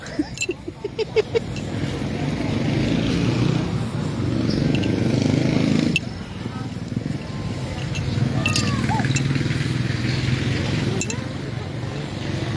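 Motorcycle engine idling nearby in a town plaza, a low steady rumble running throughout beneath people chatting, with occasional small clinks.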